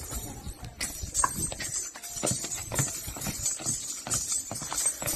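A mare decorated with zari-embroidered trappings dances at a Gujarati wedding-style show, her hooves clip-clopping in an irregular, lively rhythm nearby with a soft background bustle.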